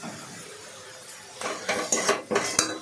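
Shapla dal stirred in a pot: after a quiet stretch, a few close metallic scrapes and clinks of a spoon against the pot come in quick succession.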